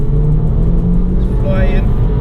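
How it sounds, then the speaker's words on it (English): A VW Golf GTI MK5 in sport mode accelerating hard on a winding road, a loud, steady engine drone with rising tonal whine heard from inside the car. "Let's get a little bit of engine noise if we can."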